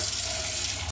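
Tap water running steadily into a basin sink over cooling boiled lentils, a close continuous splashing rush that cuts off abruptly at the end.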